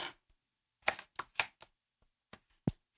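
A knife finely chops carrots on a board in a home kitchen, with a few crisp, close taps coming in short irregular bursts separated by pauses.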